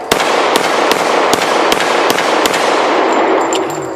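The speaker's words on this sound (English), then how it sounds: "I love to hammer that propane tank." Rapid series of sharp metallic clangs, about nine bullet hits in steady succession on a hollow steel propane tank target, ringing briefly after each, no voices.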